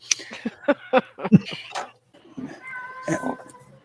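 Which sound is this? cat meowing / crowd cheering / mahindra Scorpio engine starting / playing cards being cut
cat meowing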